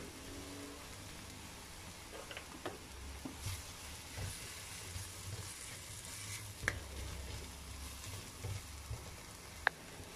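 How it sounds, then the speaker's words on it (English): Spices with garam masala and salt cooking and being stirred in a pan for a spicy vegetarian brinjal dish, giving a soft, steady sizzle with occasional faint scrapes and knocks, no voices. "Now we mix all this well and let the spices cook."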